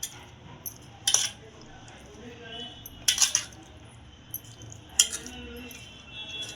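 A spoon clinks against a bowl while turmeric and salt are mixed into the ingredients, three sharp metallic taps spaced a couple of seconds apart over faint background hiss, plus a few softer knocks.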